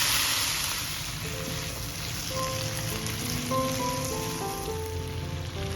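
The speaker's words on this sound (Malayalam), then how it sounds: "മസാല ഒന്ന് വഴഞ്ഞു വരുന്ന സമയം നമുക്കിതിലേക്ക് അരിഞ്ഞു വെച്ച കായൂടെ ചേർത്ത് കൊടുക്കാം" Chopped raw plantain goes into masala frying in a pan for a Kerala kaya mezhukupuratti, giving a steady, moderately loud sizzle and crackle that runs throughout, with no talking.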